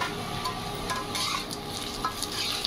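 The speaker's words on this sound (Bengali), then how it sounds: "আলু ভাজাটা নেড়ে দে" Fried potatoes being stirred in a sizzling pan, with steady frying hiss and occasional scraping of the spatula close by, no voices.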